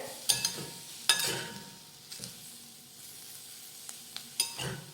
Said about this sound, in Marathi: कोथिंबीर घातल्यानंतर मिक्स करून घेऊयात